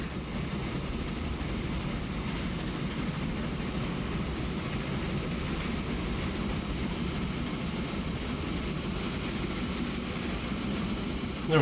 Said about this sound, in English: There goes train 3 flying past.